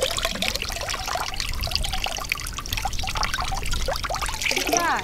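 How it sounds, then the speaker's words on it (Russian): Water from an artesian borehole in Dagestan pours and trickles steadily from an outlet, splashing continuously nearby with no talking. "вот это самая свежая скважина, вот эта, которая течет"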